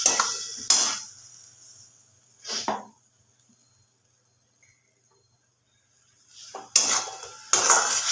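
Fish curry (mrigal fish in a spicy oil-based gravy with mustard-poppy paste) being stirred in a pan: a few short clattering scrapes of a utensil against the pan, separated by long quiet gaps, near and moderately loud.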